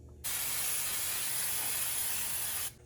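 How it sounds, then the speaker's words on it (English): Brake cleaner sprays from an aerosol can onto new brake rotors to strip anti-rust oil: a loud, steady, close hiss that runs for about two and a half seconds and then cuts off. "So you want to spray that shit off with brake clean."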